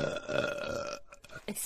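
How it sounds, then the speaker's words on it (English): A cartoon female character lets out a long, loud burp after an eating contest, a drawn-out sustained belch followed by a few short quieter sounds at the end. "she was burping an awful lot after the eating contest"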